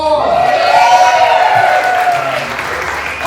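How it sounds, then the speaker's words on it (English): A live comedy mentalist show audience gives a loud, dense round of applause with a few whoops and cheers, steady throughout and fading slightly at the end. "you receive a massive round of applause"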